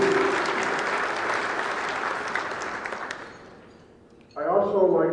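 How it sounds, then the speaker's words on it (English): An audience at a recognition ceremony claps in a dense, sustained round that fades out, followed by a speaking voice. "Let's give them all a round of applause."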